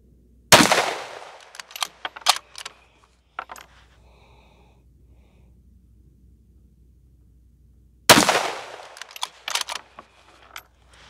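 Two loud 6ARC rifle shots firing Berger 105 bullets, about eight seconds apart, each a sharp blast with a ringing tail and a few echoing reports following; quiet background between them.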